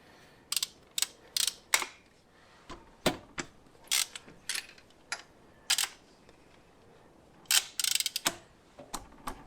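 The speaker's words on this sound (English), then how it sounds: "Let's see if we can undo these plugs." A hand ratchet clicks in short bursts while spark plugs are undone on a Morris 1300 engine from a barn-find car, a dozen or so sharp, close metallic ratchet strokes separated by quiet gaps, with no talking.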